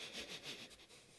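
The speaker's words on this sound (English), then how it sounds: "breathe through your nose as quickly as possible" Quick, rhythmic sniffing breaths through the nose, several short pulses in a row, soft and close with no voices.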